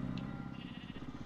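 Goat bleating in the Candy Forest video game, a wavering bleat that is loud and close and lasts through the clip, with no talk over it.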